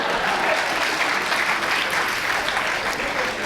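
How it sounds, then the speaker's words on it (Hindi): An audience at a Rajyoga meditation talk claps steadily for several seconds, a dense, even patter of many hands filling the room without pause or speech. "ताली बाद में बजाइए।"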